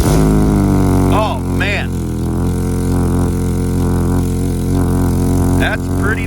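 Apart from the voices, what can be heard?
GMC Terrain engine running with blown-out exhaust resonator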